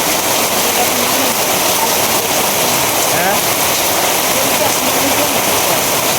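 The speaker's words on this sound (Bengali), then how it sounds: "বৃষ্টি আরম্ভ হয়েছে" Heavy rain pours down in a constant, loud, broadband rush like falling water, unbroken from start to finish.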